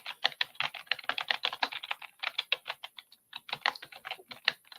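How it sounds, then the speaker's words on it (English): Rapid typing on a computer keyboard, close and steady, with dense runs of key clicks broken by brief pauses and no talking. "I'm not good at talking and typing at the same time"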